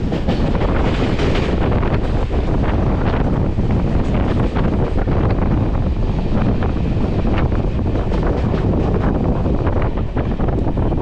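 The Puri-Shalimar train rushes past near Mecheda, a loud, sustained roar of wheels and rattling carriages mixed with heavy wind buffeting, no voices.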